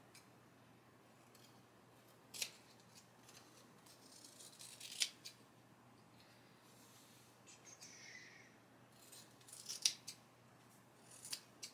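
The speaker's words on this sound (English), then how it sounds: "I will just clean up the few spots where the fabric is a little bit longer outside the frame" Scissors trim excess fabric around an embroidery hoop holding appliqué on a dollar-store canvas. The snips are faint and scattered, a few distinct cuts spread across a quiet stretch with light rustling between them.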